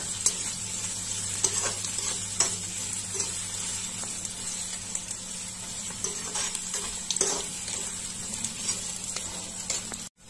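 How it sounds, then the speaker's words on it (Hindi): Cashew pieces and poppy seeds roasting in a pan for methi paneer masala, giving a continuous soft sizzle with repeated spatula stirs and scrapes against the pan throughout, with no speech. "अब इसमें काजू के पीसेस डाल देंगे और ये खसखस दोनों चीजें थोड़ी देर इनको भूजेंगे हल्का गुलाबी होने तक"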